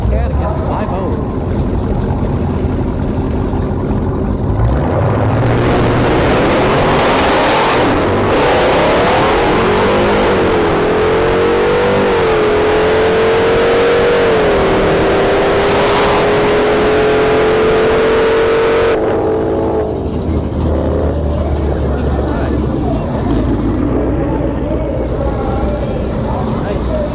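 Drag racing at a motorsports park, a Hellcat Red Eye Charger against a Mustang 5.0: loud engines rev and roar, rising through gears in a long sustained pull before fading, with a commentator talking throughout.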